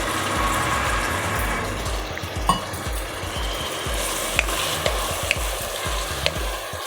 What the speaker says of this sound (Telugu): ఇప్పుడు ఈ చింతగుజ్జును మనము చింతపండు రసాన్ని వేసేసుకోవాలి